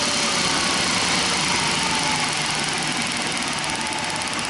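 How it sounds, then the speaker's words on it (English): A 1969 Triumph Daytona T100R motorcycle engine fitted with electronic ignition runs steadily at about 1200 RPM, giving a loud, close, even mechanical chatter and drone with no one speaking. "let's run it at 1200 RPM engine speed"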